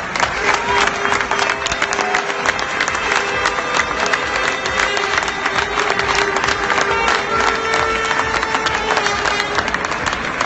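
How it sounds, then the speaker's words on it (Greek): Loud, warm applause from an audience at a bodybuilding and fitness Grand Prix event, dense continuous clapping mixed with crowd noise and a steady tone, holding at full level for about ten seconds. "Ένα θερμό χειροκρότημα"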